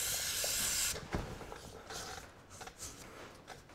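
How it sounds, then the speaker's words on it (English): A close aerosol lubricant spray hisses for about a second onto tractor front king pins, followed by quiet clicks and handling noises of metal parts. "I might give that a bit of a spray with a bit of lube"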